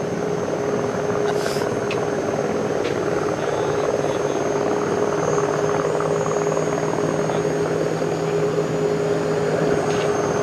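A steady Airbus A350-900 engine drone on approach near Toulouse fills the whole stretch, loud and continuous, with a constant low hum and faint noise on top, no talking.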